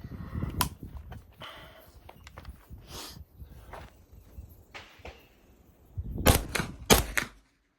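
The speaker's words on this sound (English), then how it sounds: "Yeah, that was like shooting with no suppression at all." Sharp 9mm gunshots fired through a JK 105 CCX suppressor with its baffles removed, several loud cracks spaced apart and a tight cluster of shots near the end, all outdoors.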